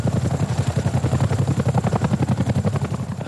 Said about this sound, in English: A Chinook lands at Boscombe Down for an exercise with a difference.